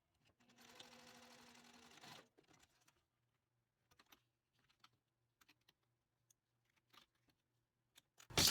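A sewing machine stitches a short seam on a cork flexi pouch, a fast whirring burst lasting about two seconds, followed by faint clicks and handling noises and a louder thump at the end.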